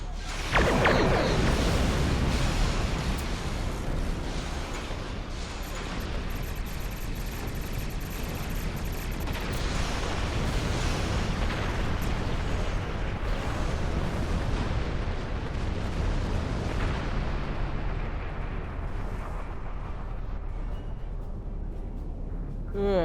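Starship weapons fire and explosions during a Klingon attack-ship assault on a starbase in Star Trek Online, a loud continuous barrage of blasts and booming detonations, dense and roaring throughout.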